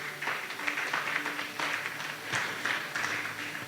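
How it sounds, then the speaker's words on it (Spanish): A church congregation clapping together in praise, a moderate, rhythmic run of applause with pulses of hand claps at a modest distance. "Le podemos dar fuertes palmas al Señor."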